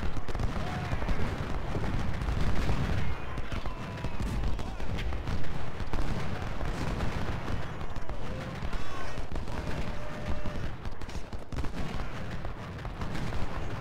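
Civil War artillery and musketry in Ultimate General: Civil War at Parker's Crossroads form a dense, continuous battle din of booming cannon and crackling gunfire that stays loud throughout without a break.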